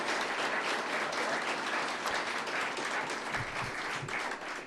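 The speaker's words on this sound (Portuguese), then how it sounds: "Um abraço, uma salva de palmas." A crowd at a Brazilian congressional commission session gives a round of applause, a dense and continuous clapping wash heard from across the room, steady in level throughout.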